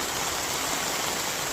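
Rain pours steadily outdoors during a welding job on a bagged Toyota, a dense, even hiss of falling water that stays close and constant with no voices.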